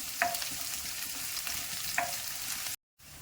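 Chopped onion fries in a hot pan for gobi manchurian, a steady close sizzle with a couple of faint stirring clicks, broken by a brief silent cut near the end.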